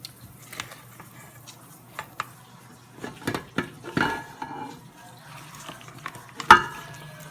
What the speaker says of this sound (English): all you need to do is just fold them in.